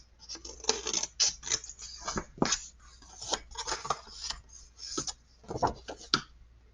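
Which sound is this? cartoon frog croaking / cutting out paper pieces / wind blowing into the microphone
cutting out paper pieces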